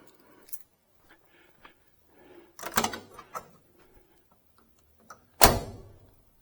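A 1969 Chevrolet Chevelle SS 396 car door shuts twice with solid thunks, the second one louder and sharper, with faint clicks and rustling between.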